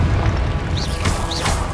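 A Confringo fire spell from Hogwarts Legacy goes off as a booming game blast over a steady rumbling backdrop, with a couple of sharper bursts close together and no talking.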